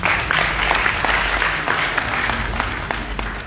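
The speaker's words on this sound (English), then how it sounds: "Give the gentlemen another round of applause." An audience at an Easter festival awards ceremony gives the honorees another round of applause, a continuous, full crowd clapping that tapers slightly toward the end.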